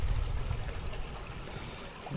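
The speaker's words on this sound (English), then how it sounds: "Let me put a little water over it" Water poured over gold panning concentrate at a lake, a continuous rushing, splashing wash that holds steady and eases slightly toward the end, with no voices.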